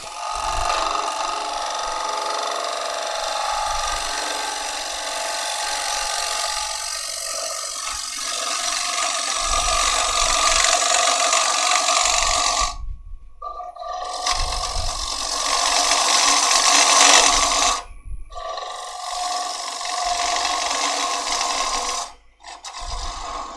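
Woodturning gouge taking a fine cut on a spinning lathe workpiece, a continuous hissing, scraping rasp that swells and eases over a long stretch, with brief breaks where the tool lifts off, close and fairly loud.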